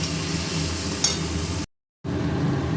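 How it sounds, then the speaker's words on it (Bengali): Chopped onion, chili and tomato sauté in a pan with a steady sizzling hiss, cut by a brief silence before the sizzle resumes. "পেঁয়াজ কুচি লঙ্কা কুচি একটু ভাজা ভাজা হয়ে গেল পরে আমি এখানে টমেটো কুচি করা ছিল ওটাও দিয়ে দিলাম।"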